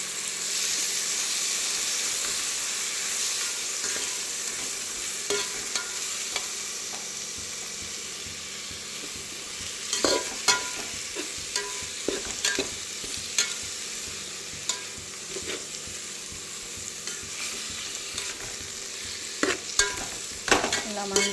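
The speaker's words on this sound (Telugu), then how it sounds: "ఇలా మంచిగా కలపండి. మన ఆకుకూర టమాటా మంచిగా మగ్గాలి." Spoon stirring wilted leafy greens and chopped tomato in an oily pan for a healthy greens-and-tomato pulao, with a steady sizzle and hiss broken by irregular scraping clicks and knocks, close and moderately loud, no talking.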